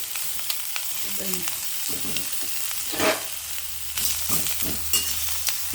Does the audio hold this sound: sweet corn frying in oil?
yes